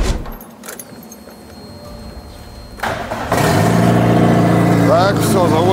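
A Lada VAZ-2109 hatchback with a lengthened body cranks and its engine catches at about three seconds, then idles loudly and steadily close by, with a brief whine of revs near the end.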